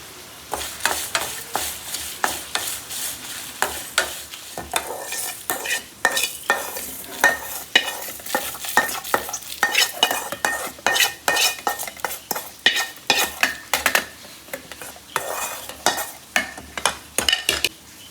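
Garlic frying in a pan over a low flame, a close, busy sizzle with dense rapid spatula scrapes and clinks against the pan, continuous and fairly loud with no speech.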